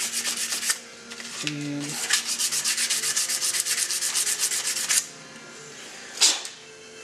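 A part being lightly sanded before priming, rapid rhythmic scratchy back-and-forth rubbing strokes close by, pausing briefly between runs, with a short spoken word at the start.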